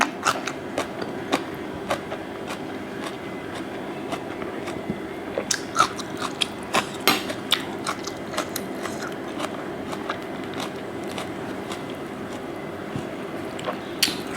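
Someone eats crunchy pickled shallot up close, with a long run of sharp crisp bites and wet chewing crunches at an irregular rhythm and no talking.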